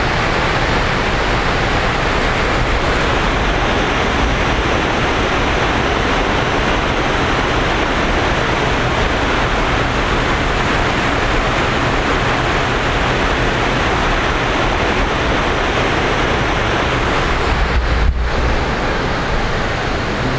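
River water flowing at Idaho Falls, a loud, dense, unbroken roar of rushing water that holds steady throughout.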